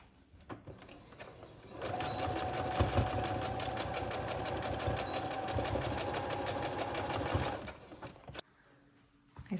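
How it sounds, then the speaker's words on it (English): A sewing machine fitted with a zipper foot runs in one steady, fast-stitching burst of about six seconds on heat-sealed rain pants fabric, close and clear, then stops with a few small handling clicks. "I'm going to use a zipper foot to sew it on"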